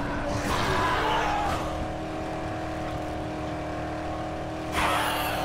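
A car driven through the video game Dead Island, a steady engine drone with a hint of tire noise, loud and continuous with a brief surge near the end, and no talk.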